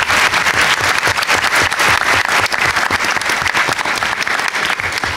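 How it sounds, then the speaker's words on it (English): An audience applauds a panel at an urban growth breakout session, with dense continuous clapping that stays loud and even throughout, without talk. "So let's give them a round of applause."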